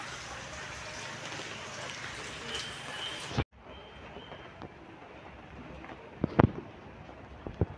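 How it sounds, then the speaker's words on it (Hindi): Rain falls steadily, giving a dense, continuous hiss that cuts off abruptly, then returns more softly with scattered sharper drips and taps. "तो वर्षा भी बहुत लगी रही।"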